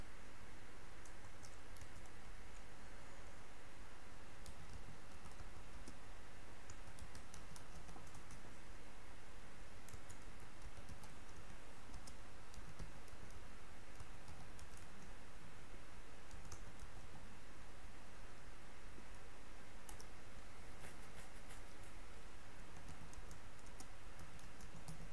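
Computer keyboard typing as a student's name goes into a form, soft quick key taps spread unevenly over a long stretch under a constant background hiss.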